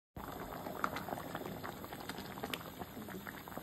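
A pot of arroz caldo, Filipino rice and chicken soup, boils with thick, close bubbling and soft popping that starts abruptly and continues evenly, no speech.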